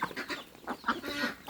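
Crossbred layer chicks kept in the open peep and cluck in a quick, close cluster of short calls.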